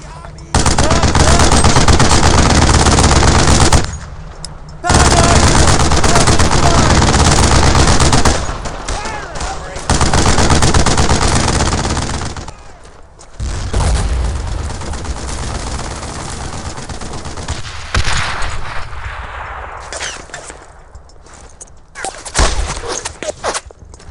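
Machine gun fire in the World War II shooter Brothers in Arms: Earned in Blood, loud sustained bursts broken by short pauses, with shouted battlefield orders mixed in and the combat thinning toward the end.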